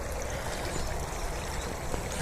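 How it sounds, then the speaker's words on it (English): A very shallow brook burbles steadily beneath a viaduct, a continuous soft wash of running water heard nearby with no voices. "It's more like a brook, stream."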